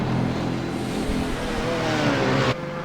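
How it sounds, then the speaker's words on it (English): A GT3 race car in the iRacing sim racing game at Mosport, its sick engine spluttering and droning loudly and continuously before cutting off abruptly near the end. "Nuno Tang, he's got a sick car. As we can hear it, it's just spluttering."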